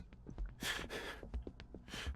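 A character in the horror video game Erie pants heavily, several close, breathy gasps and exhales in an uneven rhythm over a low background.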